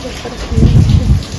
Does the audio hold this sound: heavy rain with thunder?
yes